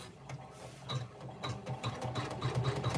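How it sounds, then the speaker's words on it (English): A sewing machine runs a stitch down the side of a bag, its needle rattling in a quick, steady mechanical rhythm close by, with no talking. "we're going to do a stitch down on the left side of the bag"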